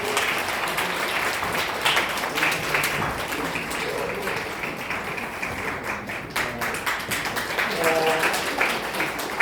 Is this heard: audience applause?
yes